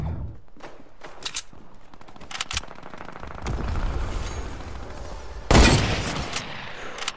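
Fortnite gunfire bursts in quick irregular volleys, with a loud blast near the end amid game effects and footsteps.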